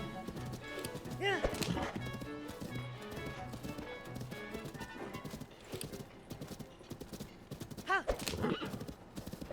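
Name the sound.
horse hooves while riding a horse, from a video game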